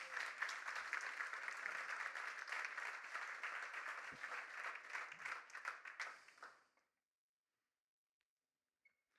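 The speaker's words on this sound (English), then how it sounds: "let's welcome them up on stage with a big applause." An audience applauds steadily, a dense wash of clapping that fades out after about six seconds, leaving silence.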